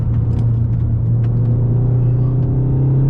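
A Seat Leon Cupra 300hp pulls hard along a winding backroad, its engine a loud, steady low drone heard from inside the cabin, humming continuously with no talking.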